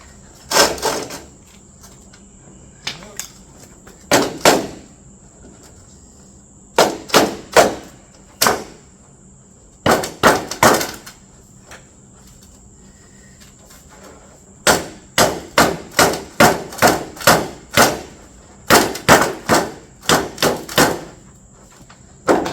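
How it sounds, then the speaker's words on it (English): A hammer pounds on parts of a homemade rainwater catchment system, loud and close, landing in irregular clusters of sharp strikes separated by short quiet pauses. "I guess when all else fails, use a hammer and brute force."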